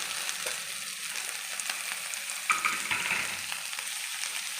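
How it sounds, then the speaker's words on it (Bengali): Spices for a Bengali banana stem (thor) and chickpea curry fry in oil in a pan, with a soft, steady sizzle and a few louder bubbling and stirring crackles partway through. "তেল ছেড়ে গেছে। আমি ভালোভাবে মশলাটা কষিয়ে নিয়েছিলাম।"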